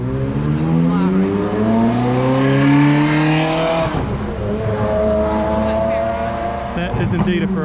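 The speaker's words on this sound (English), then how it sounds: "I can hear the sound of a sports car approaching." A Ferrari sports car drives up close and passes on a city street, its engine rising in pitch as it revs and accelerates, then dropping as it goes by, with people talking over it.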